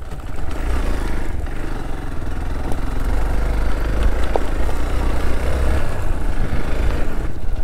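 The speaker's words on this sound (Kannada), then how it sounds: "ಇದು ಬೋಲ್ಡರ್ ರಾಕ್ಸಲ್ಲಿ ಬೈಕ್ ಬಿಡೋದು ನಾಟ್ ದ್ಯಾಟ್ ಈಸಿ" A motorcycle engine drones steadily up close while the bike picks its way over boulder rocks on a hill road at Baba Budan Giri, the low rumble holding even with small bumps and rattles.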